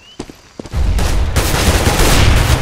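Counter-Strike: Global Offensive gunfire, a couple of sharp pistol cracks followed by a loud sustained burst of rapid shots filling the rest of the moment, close and intense.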